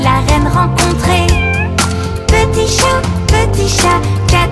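A cat's meow sounds within a French children's nursery song about a little cat, set against bright melodic music that plays steadily throughout.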